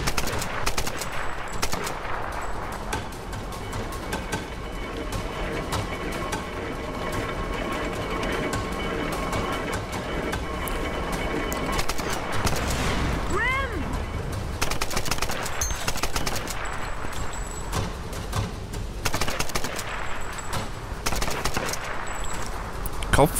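Bursts of machine-gun and rifle fire in Tomb Raider (2013), sustained and loud through most of the stretch amid game effects, with some speech mixed in.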